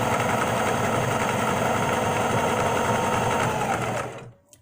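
A sewing machine stitches the fabric body of a sewn piece in a fast, steady mechanical whir close by, running without a break for about four seconds before stopping.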